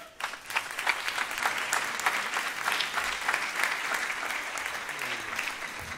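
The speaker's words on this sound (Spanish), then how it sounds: "Un aplauso." An audience at an evening concert breaks into applause for a singer, a dense wash of clapping that starts abruptly and holds steady for several seconds, with no talk over it.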